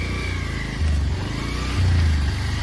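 A motorcycle engine runs close by, a loud low steady rumble that swells twice as the throttle is blipped, with no clear talk over it.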